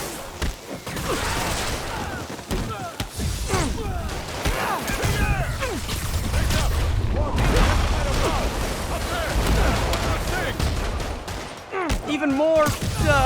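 Dense gunfire from enemy soldiers in Marvel's Spider-Man Remastered, with steady bursts and booming impacts running throughout. Shouting voices and other game speech sit over the shooting.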